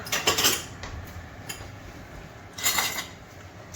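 A serving utensil scrapes and clinks against cookware and a bowl as homemade chicken alfredo is dished up. Two bursts of close metallic clatter frame a quieter stretch, with no talking.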